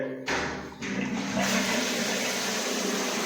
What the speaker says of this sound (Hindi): मैं अभी फ्लश करूंगा, फ्लश का बटन ऑन करेंगे।